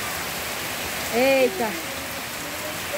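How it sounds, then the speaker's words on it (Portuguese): Heavy rain falling steadily on a rural farm smallholding, a dense continuous hiss throughout, with a brief spoken exclamation over it. "Gente, a chuva ficou forte, graças a Deus. Chuva, chuva, chuva."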